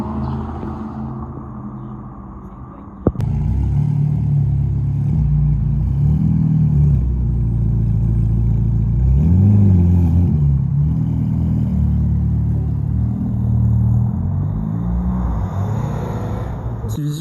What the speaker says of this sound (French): Porsche Taycan, juste ici, en plaque anglaise, encore une fois.